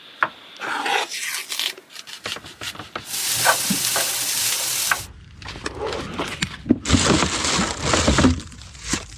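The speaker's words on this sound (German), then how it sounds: "Das ganze Gemüse erstmal in der Pfanne angebraten" Vegetables sizzle and fry in a pan in a camper van, with scraping and stirring sounds, steady and close, with bursts of hissing throughout.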